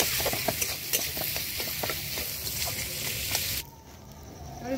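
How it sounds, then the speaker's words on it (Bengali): A spatula stirs vegetable filling for tomato chop frying in oil in a pan, with a loud sizzle under repeated scraping strokes, then the sizzle drops away abruptly near the end. "নড়াচড়া করে নিচ্ছি"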